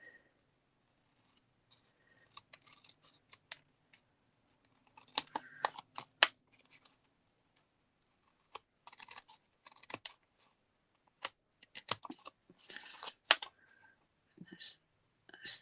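Card stock scraps are trimmed with scissors in short clusters of crisp snips and paper rustles, spread across a quiet room with long silent gaps between them.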